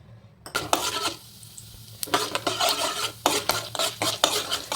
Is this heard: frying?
yes